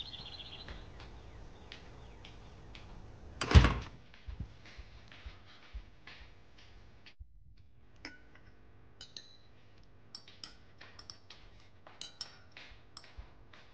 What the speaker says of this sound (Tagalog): Isara mo yung pinto.